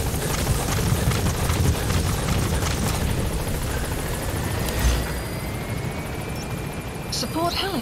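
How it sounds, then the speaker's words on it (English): Support helicopter arriving in Metal Gear Solid V: The Phantom Pain, a steady rotor roar and whine holding throughout at close range, with brief game sound effects near the end. "Support helicopter has arrived."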